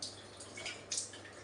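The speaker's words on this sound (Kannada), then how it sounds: "ನೀರು ಹಾಕ್ತೀನಿ." Water splashes and drips faintly in a home kitchen being cleaned, in a few soft, uneven bursts. No voices are heard.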